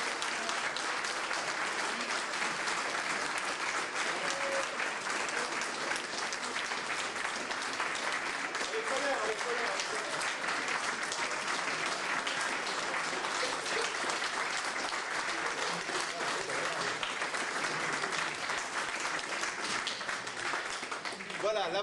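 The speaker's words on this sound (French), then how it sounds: "je vais vous demander de les saluer et de les applaudir" Audience applauding the grocery department team at a shopping centre event, a steady, dense wash of clapping that holds loud and continuous throughout.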